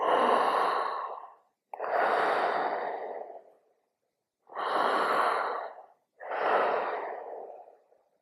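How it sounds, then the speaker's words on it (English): Four long breaths, each a quick intake followed by a drawn-out, slowly fading exhale, in a calm breathing exercise; close and clear, with short silences between. "Faster inhale. Long, slow exhale."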